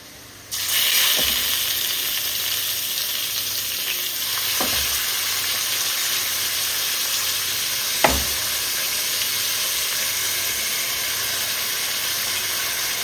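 Marinated chicken sizzles steadily in hot ghee with fried onions, a loud continuous frying hiss with a few sharp stirring knocks and clatters of the spoon against the pan.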